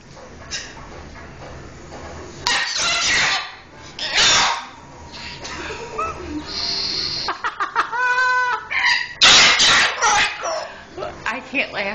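A rescued parrot yells in loud, repeated squawking bursts that alternate with human talk and laughter nearby, its harsh cries rising in several strong episodes across the stretch.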